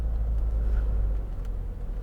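A 2011 Vauxhall Meriva 1.7 CDTi 16v SE diesel driving, steady low engine and road rumble heard from inside the cabin, with no talking.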